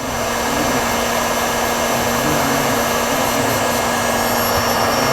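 A heat gun runs steadily and loudly up close, a constant blowing roar with a faint tonal whine, warming a crimped trailer breakaway wire connection.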